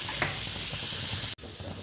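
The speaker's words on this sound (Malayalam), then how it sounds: "നമ്മൾ ഈ എണ്ണയിലേക്ക് തന്നെ ഈ സവാളയും കൂടെ ഇട്ട് കൊടുത്ത് നല്ലപോലെ ഒന്ന് നമുക്ക്" Chopped onions sizzle in hot oil as they sauté for Kannur-style prawn rice. A steady, close frying hiss carries on with a faint stirring scrape, and there is a brief break near the end.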